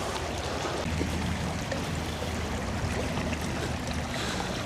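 A small stream or creek flowing after rain near a camping area, a steady babbling rush of water heard up close and alone, with no voices.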